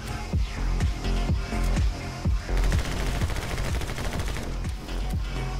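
Rapid gunfire from the My Friend Pedro video game, a fast run of sharp shots, about five per second, loud and close, with no voices over it.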